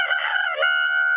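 A cartoon rooster gives one short, bright cock-a-doodle-doo crow, clear and close, rising then holding a steady tone to the end.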